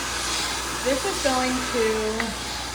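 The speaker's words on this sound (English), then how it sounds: "And then I'm going to take my dryer and just kind of dry some of that product in." A hair dryer blows steadily and loudly, drying styling product into long hair, its constant whoosh holding the whole time, with a faint tonal whine wavering beneath.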